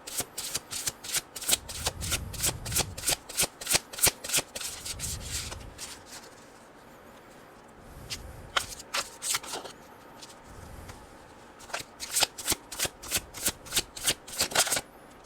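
Tarot cards being shuffled for a reading, a steady run of crisp riffling flicks and soft slides, close and fairly loud, broken by a few brief pauses before the shuffling resumes.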